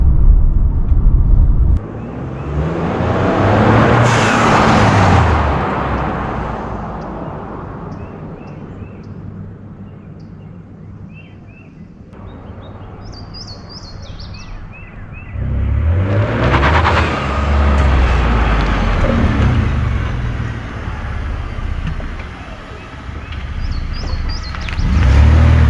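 A 2021 Ford F150 pickup with the 2.7 EcoBoost engine drives past a roadside camera, its engine sound swelling as it approaches and fading as it moves off, then a second loud rush returns toward the end.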